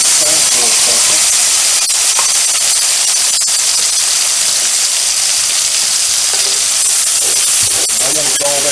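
Garlic sizzles loudly in a pan alongside pork tenderloins, a dense, steady hiss of frying that runs without a break, with a voice talking faintly over it.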